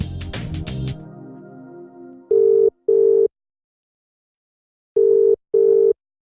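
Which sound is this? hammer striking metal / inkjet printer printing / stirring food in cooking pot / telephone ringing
telephone ringing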